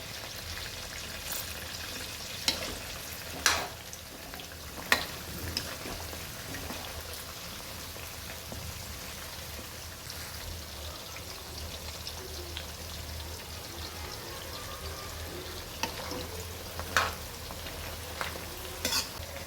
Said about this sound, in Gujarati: ડુંગળી અહીંયા આપણી સતળી ગઈ છે